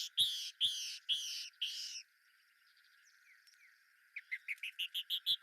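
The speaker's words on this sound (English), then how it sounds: "That's the song of a female canyon wren." Female canyon wren singing in the open, a series of clear high whistled notes, first four spaced slow phrases, then a quiet pause, then a fast accelerating run of short bright notes.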